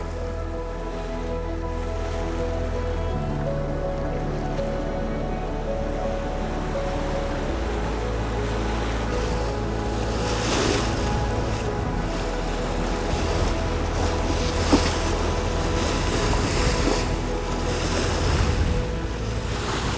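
Ocean swell and breaking waves wash around a sailboat alone at sea on the Pacific, loud and constant, with gusts of wind buffeting the microphone.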